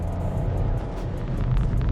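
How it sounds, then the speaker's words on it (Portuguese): Steady low engine drone of a Chevrolet Tracker SUV, heard from inside the cabin with little sound insulation, a continuous near rumble with no talk. "Você ouve bem mais trabalho de motor."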